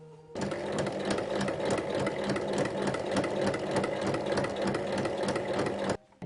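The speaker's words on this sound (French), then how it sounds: "Donc, à 2 cm, une surpiqûre tout le tour." A sewing machine runs a continuous topstitch two centimetres from the edge of a handmade fabric backpack with patch pockets, its rapid even needle clatter steady and close for about five and a half seconds before stopping.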